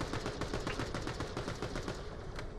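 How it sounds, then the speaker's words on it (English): Rapid automatic gunfire and blasts from the video game Borderlands: The Pre-Sequel, a dense, loud, continuous rattle of shots with no pauses and no talk. "Shoot vehicles and explode."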